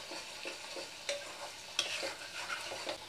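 Curry masala with curd being stirred and fried in a pan for an egg pakora curry, soft continuous sizzling broken by scraping stirs and occasional clinks of the spoon, quiet and close with no talk.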